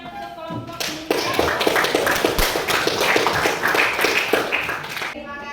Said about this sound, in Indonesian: Oke, tepuk tangan untuk kelompok 5.